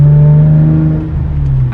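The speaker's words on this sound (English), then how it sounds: "I just can't get enough of that exhaust." Straight-piped exhaust on a Hyundai Genesis Coupe 3.8 R-Spec, a loud steady low drone as the engine holds revs, with a slight change near the end and no talking.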